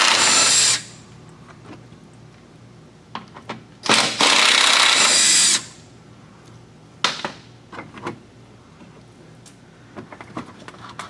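A power tool zips out 10 mm head bolts holding a plastic cover on a 2015 Toyota Highlander, firing in two loud bursts, one at the start and a longer one mid-clip, with softer clicks and clunks between.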